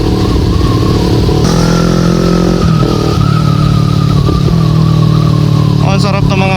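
A motorcycle at top speed on a wide open road near Las Piñas and Zapote, engine droning loud and close with shifting revs and wind roar, ending in a burst of sharp rev-match blips.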